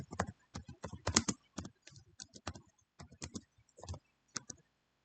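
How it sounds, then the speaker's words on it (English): Typing on a computer keyboard, quick irregular bursts of clicky keystrokes with short pauses between runs, close and fairly quiet with no talking. "I cannot type when I'm on here with y'all"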